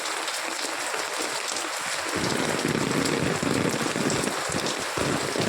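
Steady rain pours down outdoors in a continuous dense hiss on surfaces, swelling louder after the first couple of seconds and staying heavy and close, with no voices.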